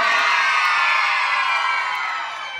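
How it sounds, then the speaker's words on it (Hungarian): A live concert audience at an August 2015 show in Nagykónyi lets out a huge sustained scream and cheer, loud and crowd-wide, tapering slightly at the end. "3-ra juttassunk neki egy hatalmas sikítást"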